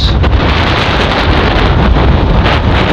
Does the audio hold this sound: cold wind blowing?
yes